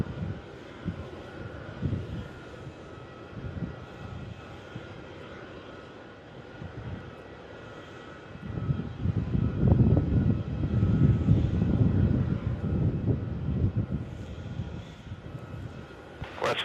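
An airplane lands on runway 16 at Melbourne Airport. At first only a low, distant engine rumble and wind noise are heard, then the roar swells and stays broad and heavy through the second half.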